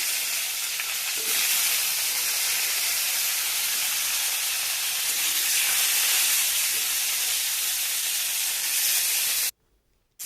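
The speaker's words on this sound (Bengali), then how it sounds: "এবার ওই তেলে ফুলকপিগুলো ভেজে নেব" Cauliflower florets frying in hot oil in a pan give a loud, steady, close-up sizzle throughout, cutting off abruptly just before the end.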